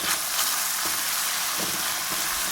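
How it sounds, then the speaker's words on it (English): Capers in pickling brine sauté alongside mutton chops, giving a steady, dense sizzle and crackle of frying throughout, with soft stirring bumps at intervals and no talking. "As you saute the two and you allow all the flavors to infuse"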